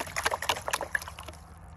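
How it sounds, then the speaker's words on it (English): Water sloshing and rinsing over sand and gravel in a gold pan at an Oklahoma creek, a short run of close, uneven splashes and trickles that fade toward the end. "Rinse off that top layer."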